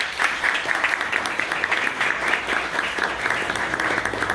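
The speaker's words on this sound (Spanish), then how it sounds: "¡Un aplauso!" A crowd at an outdoor Police Day celebration in Ypacaraí, Paraguay, breaks into steady, dense applause lasting the whole stretch, with many hands clapping at once and no talking over it.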